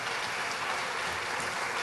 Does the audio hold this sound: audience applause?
yes